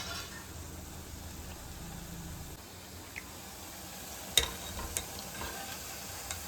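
Vaseti bhajiya fritters cooking in hot oil give a faint, steady low sizzle with soft bubbling, broken by a few light clicks and taps near the end.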